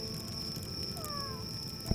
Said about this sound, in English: Kitty, stop yelling at me.